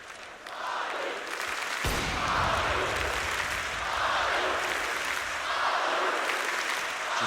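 Arena crowd at a CS:GO grand final (BLAST Pro Series, Astralis vs. SK Gaming) erupting into loud sustained cheering and applause that swells and holds, filling the hall.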